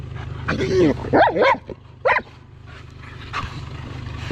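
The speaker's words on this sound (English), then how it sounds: "I have 3 large German Shepherds who just have to get out" German Shepherd dogs bark in a backyard, a few loud, close, sharp barks in quick bursts separated by short pauses, with some whimpering yips and faint background noise.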